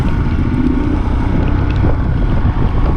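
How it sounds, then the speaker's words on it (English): Strong wind buffets the microphone near Karcham Dam, a loud, continuous low roar with no pauses and no voices. "Quite windy out here."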